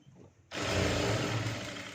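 Sewing machine stitching pleats into a child's skirt starts abruptly after a brief quiet moment, then runs as a loud, steady, close-up whir to the end.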